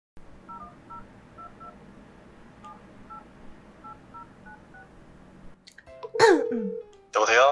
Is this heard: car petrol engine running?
no